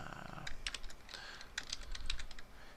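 Typing on a computer keyboard, a quick run of close, crisp key clicks in short bursts with small pauses, fairly quiet, with no voices.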